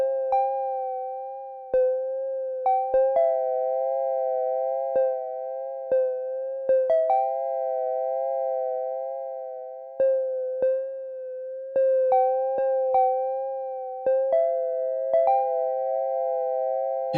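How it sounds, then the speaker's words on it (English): A sustained analog synthesizer chord with warbling, wavering pitches, new notes entering at intervals, each note pulsing at its own polyphonic LFO speed. "each different note we play will have its own unique polyphonic LFO"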